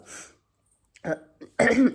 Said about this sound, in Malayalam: ഇടയ്ക്ക് ഇങ്ങനെ ചുമ വരുന്നത് നിങ്ങൾക്ക് കേൾക്കുമ്പം ബുദ്ധിമുട്ടാണെന്ന് എനിക്കറിയാം